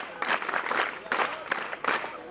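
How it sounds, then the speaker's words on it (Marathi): A school audience claps at a prize distribution ceremony at Warna Prasad Vidyalaya in Bilashi, with several dense bursts of applause rising and fading and voices mixed in. "टाळी।"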